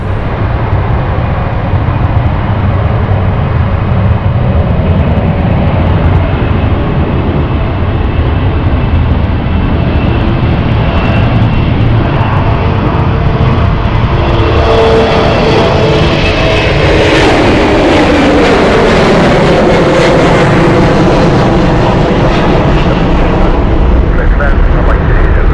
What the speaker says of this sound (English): another takeoff this time